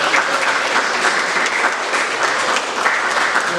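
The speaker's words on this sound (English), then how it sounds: "So we want to give him another round of applause." A full round of applause at a Samoan culture class gathering, dense and steady clapping from a group that carries on loudly and evenly throughout with no talk over it.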